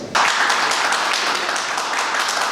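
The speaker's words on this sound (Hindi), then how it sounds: "जोरदार तालियों से आपका भी स्वागत।" Audience applause at a felicitation ceremony during an industrial convention, a sudden dense burst of clapping that stays loud and steady from a large crowd.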